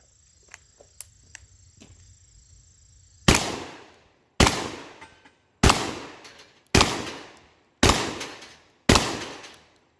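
A Tristar Raptor ATAC 12 gauge semi-automatic tactical shotgun fires six loud, close shots at a steady rhythm of about one per second, after a stretch of small metallic clicks and handling noise.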